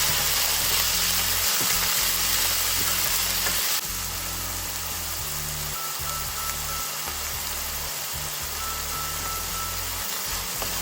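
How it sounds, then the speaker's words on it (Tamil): Turkey berries (sundakkai) fry in a pan while being stirred, making a loud, continuous hissing sizzle that stays steady throughout, easing slightly partway through, with no one speaking. "இதோட க்ளீன் பண்ணி வச்ச சுண்டங்காயை சேர்க்க போகிறோம் சேர்த்து நல்லா பிரட்டி விட்டுட்டு"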